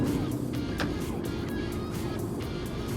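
Mercedes-Benz AMG car driven at full throttle on a racetrack, a dense, steady engine roar heard from inside the cabin, loud and continuous with no letup.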